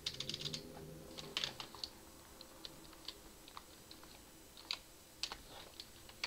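Fingers type on a computer keyboard at a desk, scattered quiet key clicks and short bursts of tapping coming close and soft, with irregular pauses and no talking.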